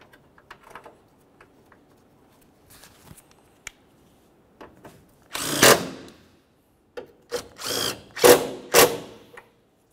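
A power tool drives two 10 mm headed bolts into a 2005-2010 Chevrolet Cobalt, heard as several short, loud whirring bursts close up after quieter handling clicks and taps.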